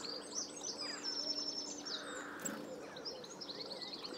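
Small songbirds such as willow warblers call and chirp by a river, with repeated high twittering phrases and brief calls scattered throughout, moderately close over a soft outdoor background.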